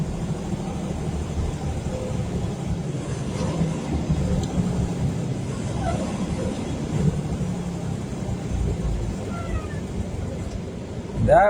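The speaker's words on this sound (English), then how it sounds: "These Freightliners have a weird whine to them. It sounds like they're crying when you brake and let up." Air brakes on a Freightliner semi truck whine on release, with faint rising, crying-like tones surfacing over a steady rumble of cab and road noise, and a brief louder burst near the end.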